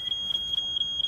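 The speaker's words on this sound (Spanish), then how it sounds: "¿podría sujetar la escalera mientras reviso el detector de humo?" A smoke detector alarm being tested in a cartoon sounds a shrill, steady electronic beeping, pulsing in rapid even bursts, loud and alone with no voices.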